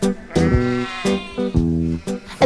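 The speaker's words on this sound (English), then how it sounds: "there are a lot of sheep here" Sheep on a sheep farm bleat several times in quick succession, loud and near, with wavering, overlapping calls.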